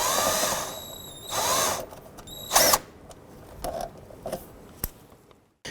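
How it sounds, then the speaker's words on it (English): A 10mm ratchet with a swivel socket loosens an air box bolt on a 2006-2011 Honda Civic, giving a few short bursts of close mechanical clicking and scraping with quiet gaps between them. "Using a 10mm ratchet, we're going to go ahead and start removing the bolts here that secure the box."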